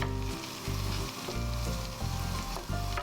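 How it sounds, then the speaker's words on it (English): Loud, steady sizzling of chopped mushrooms frying in a pan with butter and olive oil, with rhythmic bursts as they are stirred around. "Pop your chopped mushrooms into your pan with some butter and olive oil and mix them around."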